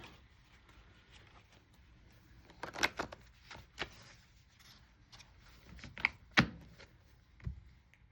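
Tarot cards being shuffled by hand, a run of soft papery riffles and taps with a few sharper slaps as cards drop, close and fairly quiet with no talking.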